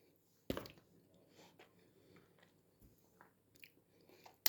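Someone bites into a home-canned pickled tomato and chews it: one sharp bite up close, then soft, wet chewing and small squishes in a quiet room.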